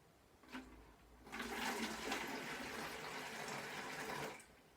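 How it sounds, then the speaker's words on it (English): Water poured into a plastic water bottle for a homemade instrument, a steady splashing gush that runs for about three seconds, close and fairly loud, then stops. "we are going to pour the water in. Not too much, just a little bit."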